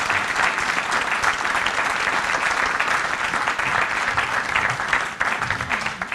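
Sustained applause from a conference audience fills the room after a session, steady dense clapping at moderate volume with no voices over it.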